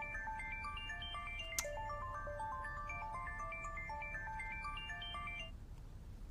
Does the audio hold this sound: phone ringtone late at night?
yes